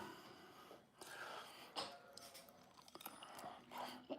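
Biting into a pot sticker dumpling and chewing it, soft crunchy bites and wet mastication with breaths through the nose, close and fairly quiet, no talking.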